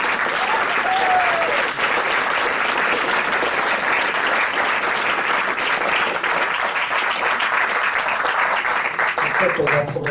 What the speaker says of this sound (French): vais rejoindre Monsieur Philippe de Comble, que vous pouvez déjà applaudir.